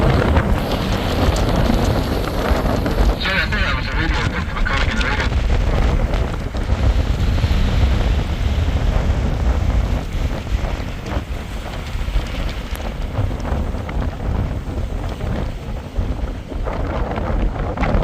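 Strong wind buffeting the microphone on the open deck of the steamship SS Sir Walter Scott cruising Loch Katrine in Scotland, a continuous loud rumbling roar with gusty swells and no talk.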